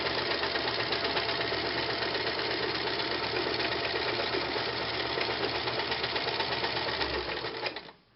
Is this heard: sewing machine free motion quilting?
yes